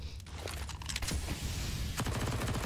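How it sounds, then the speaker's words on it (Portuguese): Rapid bursts of MP9 submachine gun fire crackle in a Counter-Strike match on Dust2, several quick volleys spread across the clip with a short pause in between. "soltando os disparos de MP9 e consegue essa kill"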